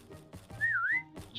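Someone whistles a single rising and falling tune in the Roblox game Hide or Die, clear and fairly close, with faint thumps and noise around it.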